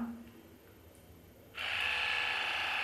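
A KURON 5D electric facial cleansing brush switches on partway through, giving a steady, close, high-pitched motorized whir that holds to the end.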